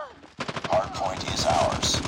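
Rapid bursts of automatic gunfire from the Call of Duty Mobile video game's Hardpoint match, loud and close, with repeated shots rattling over a steady rhythm and some weapon and effects noise layered in.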